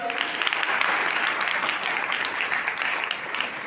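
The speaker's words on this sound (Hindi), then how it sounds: "ताली बजाओ इसके लिए" Steady applause from an audience at a kurash and yoga competition ceremony, dense and continuous throughout, fairly loud with no gaps.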